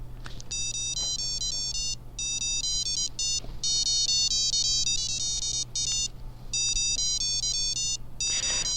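A photocell-triggered electronic circuit plays a tinny, beeping melody in bursts of stepped tones with brief pauses between phrases, steady and fairly loud over a low mains hum, with no talking.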